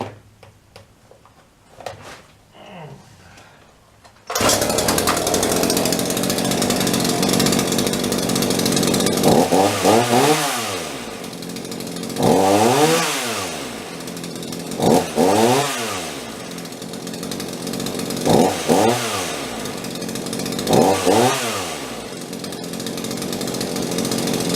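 A Champion chainsaw engine runs steadily and loud after a quiet start, revving up and down in repeated surges roughly every few seconds.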